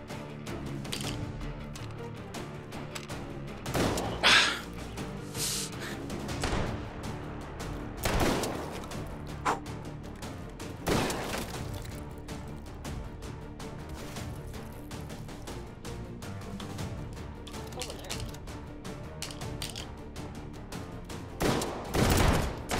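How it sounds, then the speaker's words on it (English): A Gatling gun fires in the VR shooter Hot Dogs, Horseshoes & Hand Grenades, with several loud bursts of rapid fire breaking through a quieter background of clatter and room noise. "Mr. Gatling gun over there."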